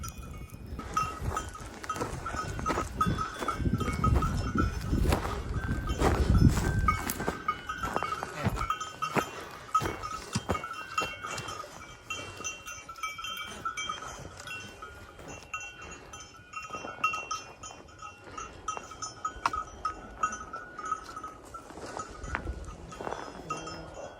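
A herd of goats on a hillside farm fills the scene with intermittent bleats and clinking bells, fairly close, with heavy rustling and movement noise early on and a steady outdoor background.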